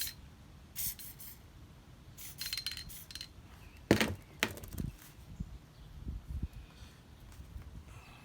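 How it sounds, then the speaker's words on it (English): Adhesive being sprayed onto a Honda Pilot door armrest during upholstery repair, heard as several short hissing bursts of varying length, close and moderately loud, with handling clatter between them. "Gonna spray some more adhesive here."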